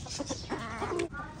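A flock of about 200 chickens clucks and murmurs while being fed vegetable peels, a busy overlapping chatter of short calls close by, fairly quiet and continuous.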